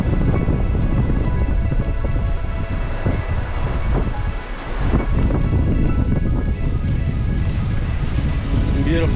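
Strong wind roaring across the Lockhart River beach boat ramp, loud and gusty with heavy low buffeting against the microphone, briefly easing midway before surging again; a voice is heard underneath.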